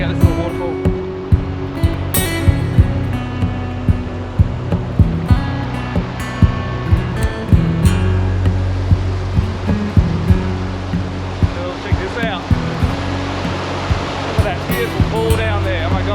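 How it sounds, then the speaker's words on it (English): A small waterfall pours into a clear pool at Python Pool, giving a steady, full rush of falling water that stays constant throughout, with scattered voices talking over it. "Let's check out this little waterfall."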